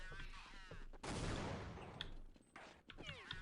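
Burst of gunfire from the Unreal Tournament video game, a loud dense volley landing a headshot, rising suddenly and dying away over about a second and a half, with game effects and faint chatter around it.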